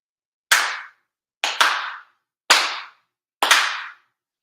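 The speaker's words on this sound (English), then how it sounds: "4 sincere claps along with the head officiant" Four crisp, sharp hand claps at a Shinto-style monthly ceremony for Tenchi Kane no Kami ring out evenly about a second apart in a quiet room, each with a short reverberant tail.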